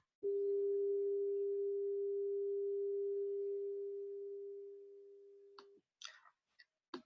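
A smooth, steady filtered PWM wave tone holds one pitch for about five seconds, slowly fading a little before stopping abruptly, then a few brief clicks.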